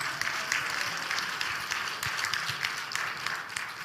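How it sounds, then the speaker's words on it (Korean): A church congregation at a revival testimony service applauds, a soft, fairly distant wash of many hands clapping steadily for several seconds. "우리 박수로 한번 다시 격려해 주시면 감사하겠습니다"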